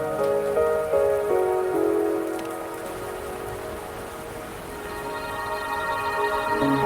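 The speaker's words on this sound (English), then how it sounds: "Rain." Steady rainfall in the video game Wuthering Waves, a dense hiss of drops on surfaces running throughout, with sustained musical tones layered over it and no talking.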